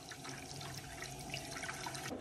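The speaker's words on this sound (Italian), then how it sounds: "lo riempiamo d'acqua fino a livello" Water runs steadily from a tap into a small bucket being filled to a set level for house cleaning, a continuous splashing rush without pauses or voices.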